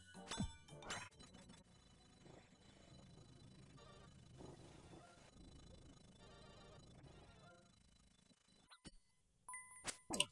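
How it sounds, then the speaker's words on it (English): The overload potion wearing off in Old School RuneScape during a Nightmare Zone session: brief, faint, chiming game tones, with a few short dings near the start and a cluster near the end over a quiet background. "The sound effect of the overload wearing off is not great."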